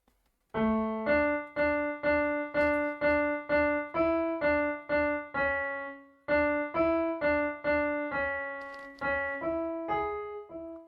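Electronic keyboard playing bars 10 to 15 of the Ganesh Aarti 'Ek Dantay Vakra-tundaya', a steady run of sustained, rich melodic notes with a short pause midway, then the phrase continues to the end.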